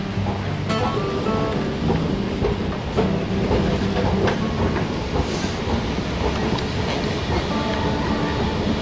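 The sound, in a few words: train at London Paddington station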